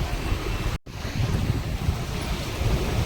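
Sea waves washing onto the beach at Mandvi, a continuous broad roar of surf mixed with heavy wind buffeting the microphone, with a momentary dropout early on and no speech.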